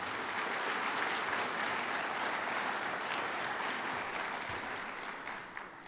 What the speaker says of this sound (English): I'd appreciate one more round of applause for all of our advocates at the C4